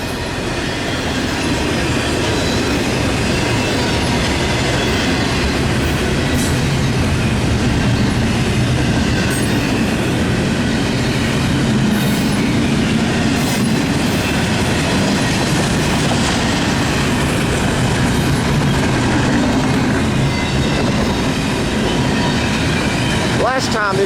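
A long Norfolk Southern 204 intermodal freight train rolls steadily past close by, its wheels clicking and rumbling continuously with faint squeals, and a mid-train pusher locomotive in the consist.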